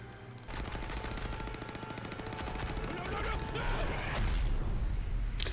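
Rapid gunfire in a Skull Island TV episode, dense bursts of shots layered with music and effects, continuous and fairly busy throughout.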